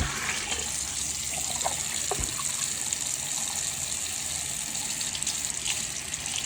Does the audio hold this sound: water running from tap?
yes